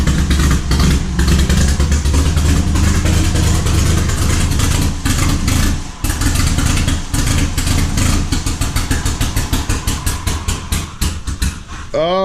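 A Volvo 740's engine idles roughly and loudly up close, its uneven chugging pulses steady throughout with a few stumbles near the middle.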